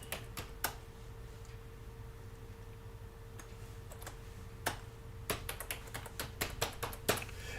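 Fingers type on a computer keyboard, a steady run of quiet, close clicks that quickens into denser bursts near the end, with no talking.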